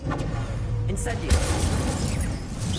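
A fiery burst from the Incendio spell in Hogwarts Legacy flares up about a third of the way in over a steady, dense rumble of game effects, with a voice audible in the mix.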